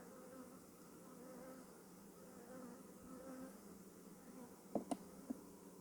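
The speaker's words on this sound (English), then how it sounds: "watch out, bees" Honeybees buzzing during a hive inspection, a steady low hum from many insects close by, with a few sharp tapping knocks near the end.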